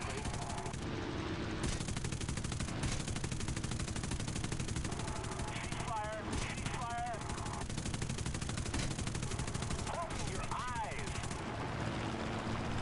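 Aircraft machine guns rattle in War Thunder air combat, a dense continuous chatter over steady engine drone, with short voiced bursts cutting in partway through.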